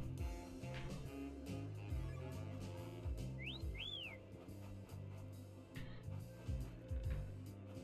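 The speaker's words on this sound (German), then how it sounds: "dieses blöde Pfeifen ist unsere Fähigkeit" Whistling ability sound effect in the Yooka-Laylee video game, Capital Cashino level, two short rising-falling whistle tones over busy game music and background effects.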